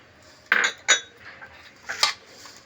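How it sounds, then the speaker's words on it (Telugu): A metal spoon clinks against a steel bowl while turmeric is mixed into spice powder with salt, chilli, fenugreek, mustard and cumin for bitter gourd pickle; a few distinct taps, fairly close and quiet. "ఒక స్పూన్ పసుపు వేసుకుని మొత్తం కలిసేలాగా కలుపుకోవాలి"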